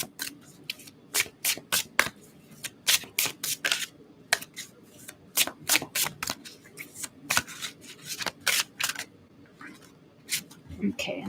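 Tarot cards being shuffled repeatedly, close up, in quick irregular bursts of riffling and snapping with brief pauses between.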